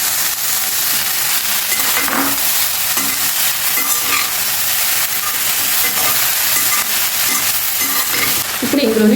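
Mini spinach idlis with sweet corn fry in a pan and are stirred, giving a steady loud sizzle broken by scraping stirs, and a sharper clatter near the end.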